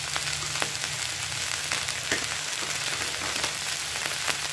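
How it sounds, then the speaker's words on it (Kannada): Okra frying in a small amount of oil with salt and turmeric gives a steady, close sizzle with a low hum beneath it and a few scattered stirring clicks; no one speaks. "ಐದು ನಿಮಿಷ ಚೆನ್ನಾಗಿ ಫ್ರೈ ಮಾಡಬೇಕು"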